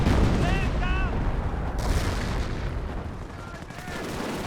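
Artillery shells land in a Company of Heroes 1 match, Wehrmacht against British, with deep booming impacts and rumbling explosions up close while a voice talks over them.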